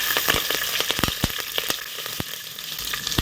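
Cumin seeds, curry leaves and three green chillies sizzle and crackle in hot oil, with steady frying hiss and sharp popping spits, close and moderately loud, no voices.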